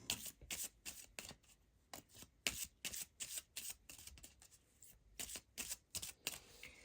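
Oracle cards being shuffled in a series of quick riffled bursts, each a crisp papery flutter followed by a short pause, close and fairly quiet with no talking.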